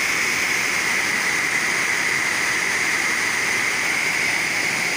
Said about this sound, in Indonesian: beginilah ya volume air di bendungan Cerepetan atau Dam Cianten